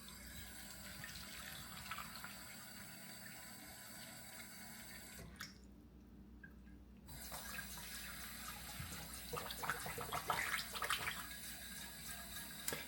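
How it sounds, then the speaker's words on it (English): Tap water runs into the reservoir of a Dupray Neat steam cleaner, a steady close rush that drops out briefly midway, then resumes with splashy gurgling as the tank fills. "I'm just gonna get some water in here."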